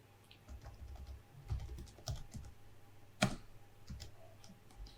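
Computer keyboard keys clicked in uneven bursts while entering formulas into an Excel spreadsheet, close and moderately loud, with a few sharper taps standing out and no talking.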